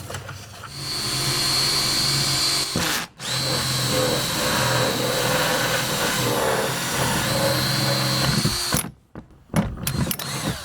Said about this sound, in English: So now that I know where my bulkhead needs to be, I'm prepared to drill it.